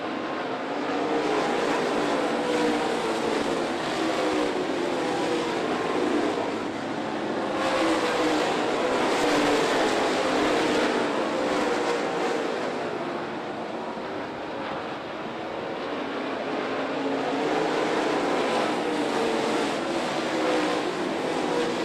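Race cars roar around Needmore Speedway during the Early Bird 75 race, a loud, continuous engine drone that swells and fades as the pack passes, with a faint whooshing wash and no talking.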